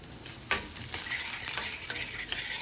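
Washed, dried curry leaves dropped into hot tempering oil with urad dal and mustard seeds in a kadai, a sharp burst of sizzling crackle followed by steady frying hiss and stirring scrapes, close by and alone.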